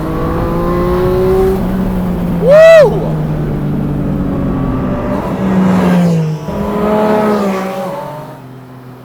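A Porsche 718 Spyder RS engine revs and drones loudly with rising and falling pitch, a sharp whooping shout cutting in briefly near the start; close and sustained.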